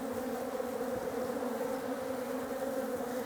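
Honeybees drone continuously at the hive, a close, dense buzzing with a steady pitch and no voices.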